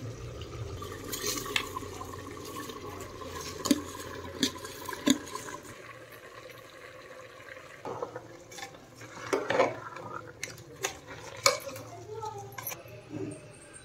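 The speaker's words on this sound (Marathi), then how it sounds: "तांदूळ आहेत धुवून घेतलेले आहे, आता ती सोडून घ्यायचे आहे त्यामध्ये" Washed rice grains rattle and splash into a metal pressure cooker with clinks and stirring sounds, amid kitchen clatter and a voice speaking, while making chicken biryani.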